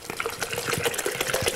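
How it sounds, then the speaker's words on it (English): Water poured from a bottle into a coffee press, a close, continuous splashing gurgle lasting under two seconds. "Okay, now the water's in."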